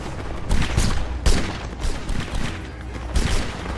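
Musket volleys crackle in a Napoleonic Wars battle between Spanish and Italian line infantry, with several broad bursts of massed gunfire rolling over steady battlefield din.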